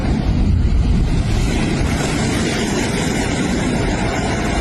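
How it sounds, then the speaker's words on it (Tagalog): Heavy surf and high waves pounded by strong wind during a super typhoon, a loud, continuous broadband roar with gusting wind buffeting the microphone throughout and no speech. "Ulan at mataas na alon."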